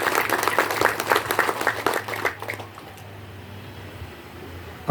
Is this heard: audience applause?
yes